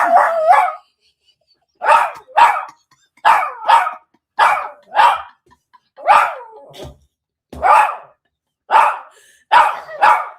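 A dog barks loudly and close by in repeated sharp bursts, often doubled, with short silent gaps between them and no talk over it.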